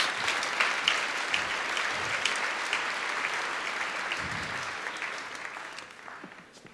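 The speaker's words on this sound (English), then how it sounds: "Please give them a warm round of applause" Warm, sustained applause from a theatre audience at Paradiso welcoming three panel guests onto the stage, a steady dense wash of clapping that gradually thins and fades toward the end.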